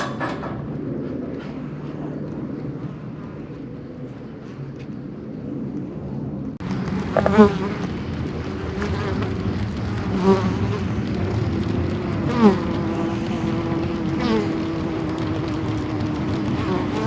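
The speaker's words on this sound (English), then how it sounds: "When you get up there, you hear a lot of bees inside." A honeybee swarm buzzes inside a cooler swarm trap mounted up a tree, a dense droning hum that grows louder and closer partway through, with a few sharp knocks and rustles as the listener moves nearby.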